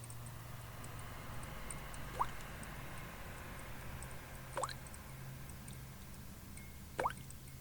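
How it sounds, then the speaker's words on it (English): Three slow, isolated drips land a few seconds apart, each a faint wet tap over a low, quiet background hum; no voices. "Her blood drips in a rhythmic tap"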